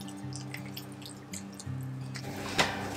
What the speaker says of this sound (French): Je commence par arroser les jeunes pieds de tomates.